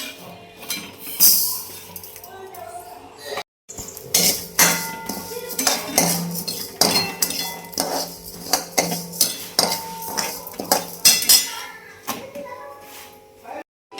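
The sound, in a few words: roasting moth bean lentils in a pan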